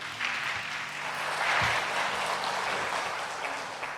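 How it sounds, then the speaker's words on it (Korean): A Korean church congregation at a Sunday worship service applauds a young man after his testimony, producing continuous, moderately loud clapping with no one speaking. "귀한 간증해 주신 우리 청년께 다시 한번 큰 박수 부탁드리겠습니다."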